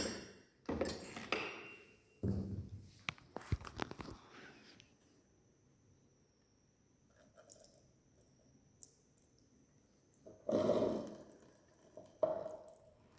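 Water drips and trickles from a resonance tube apparatus in a lab setting, a few soft wet splashes and squishy bursts at irregular intervals, close and fairly quiet, with faint background hum between them and no talking.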